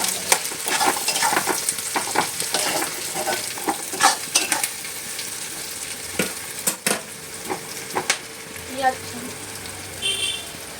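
Onions fry in a pan, giving a continuous crackling sizzle broken by frequent sharp stirring scrapes and clicks of a utensil against the pan, heard close up.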